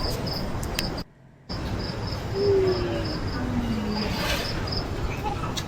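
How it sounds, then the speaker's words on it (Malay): Steady, loud cricket chirping fills the night air outside a restaurant in Bandar Penawar, Desaru, Malaysia, a continuous high trill with a brief dropout partway through. "Layan geng, dia punya bunyi cengkerik dia"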